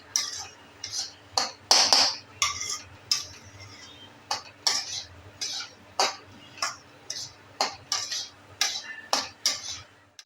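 Sesame and poppy seeds dry-roasting in a pan for goda masala give off a run of sharp, irregular crackles and pops, close and fairly loud, with no talking.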